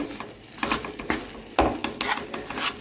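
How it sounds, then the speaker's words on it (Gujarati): A spoon stirs whole wheat khichdo with coconut and dry fruits in a pan, giving irregular scraping clicks and light sizzling with a sharper knock midway, close and alone. "હલાવતા રહીએ છીએ"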